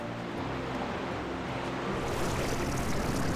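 Largest waterfall in Powderfall Bluffs in Slime Rancher 2, a steady dense rushing wash of falling water that grows slightly louder and fuller partway through, with no voices.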